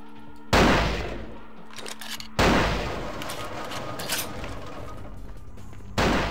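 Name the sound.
sniper duel gunfire in the video game Vampire: Bloodlines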